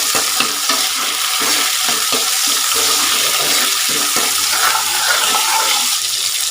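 Shallots, dried chillies and curry leaves sizzle steadily in hot oil while being stirred in a pan, a loud continuous frying hiss with soft scraping underneath and no talking.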